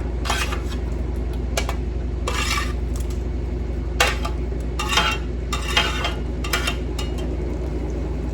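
Potatoes cooking in a pan in a home kitchen, with a soft steady sizzle under repeated bright metal scrapes and clinks of a utensil against the pan, arriving in short irregular bursts.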